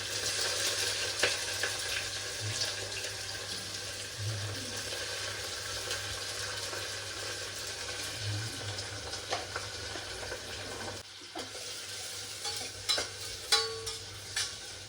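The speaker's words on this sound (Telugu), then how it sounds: "బ్రౌన్ కలర్ వచ్చే వరకు ఫ్రై చేసుకోవాలి. ఆనియన్, పచ్చిమిర్చి." Onions and green chillies fry in a pan for an aloo kurma, with a continuous close sizzle broken by scraping stirs and clinks. No one talks.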